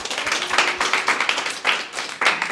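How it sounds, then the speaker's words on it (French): A small audience claps steadily at a French talk, a close, uneven patter of hands that continues throughout. "on peut l'encourager, l'applaudir et te remercier."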